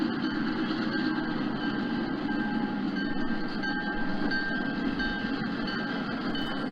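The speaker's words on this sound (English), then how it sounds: "it's an F-unit extravaganza as 2 KP&W trains cross Ulster Avenue" Model railroad F-unit locomotives of two KP&W trains crossing Ulster Avenue on a home layout make a continuous steady rumble and whine with faint rolling wheel noise, moderately loud throughout, no voices.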